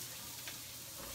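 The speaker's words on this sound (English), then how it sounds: "It's gonna sizzle into my pan." Chopped garlic and onion sizzle in a frying pan, a soft, steady crackling hiss heard alone at low level.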